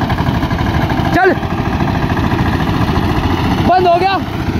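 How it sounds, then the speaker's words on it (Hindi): An Eicher tractor engine labours under load hauling a sugarcane trolley, a loud steady mid-pitched drone throughout, with two brief higher whining swells breaking through near the start and end. "पिछले वाला ट्रैक्टर बंद हो गया भाई, जोर नहीं लगा पाया वो"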